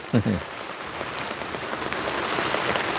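Light drizzling rain falls steadily outdoors as a soft, even hiss that stays constant throughout. A brief thump is heard near the start.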